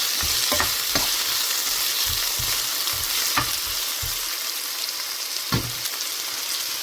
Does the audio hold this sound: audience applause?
no